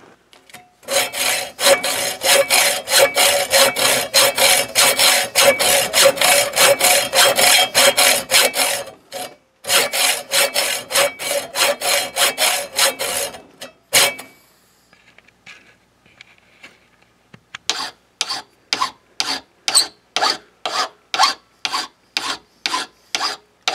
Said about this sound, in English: run it down the back way, out the end that you cut, and that'll usually get rid of any burrs and straighten everything out.